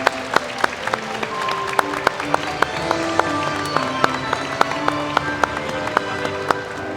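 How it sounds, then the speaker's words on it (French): An indoor crowd applauds the artists at the close of an event, a steady wash of many hands clapping with sharp individual claps popping out over a continuous background murmur. "Tout le monde applaudit pour dire bravo à tous les artistes."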